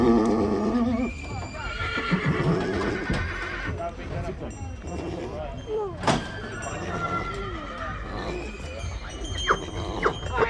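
Ponies neigh and whinny repeatedly at close range, with hoof clip-clops and occasional squeals, while people talk nearby.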